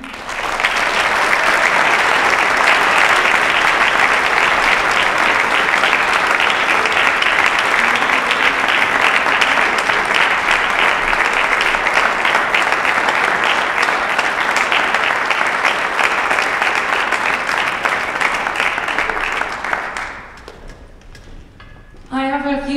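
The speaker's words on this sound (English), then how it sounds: "You can go ahead and give them a round of applause." A large audience at a university high school honor band concert claps for the student musicians in a long, loud, sustained round of applause that fades out near the end as a voice begins to speak.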